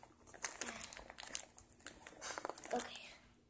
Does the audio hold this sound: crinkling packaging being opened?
yes